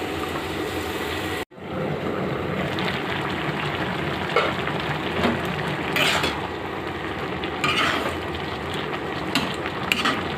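Pieces of bottle gourd fry in a pan with a steady, crackling sizzle, while occasional scraping and clinking of a utensil stirring the pan stand out at intervals.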